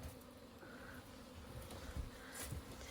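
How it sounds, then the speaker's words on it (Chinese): Many honeybees buzzing around a beehive set out at an old rural house, a steady dense insect drone close by with no talk over it. "这里这么多蜜蜂"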